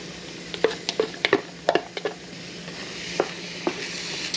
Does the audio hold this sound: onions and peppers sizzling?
yes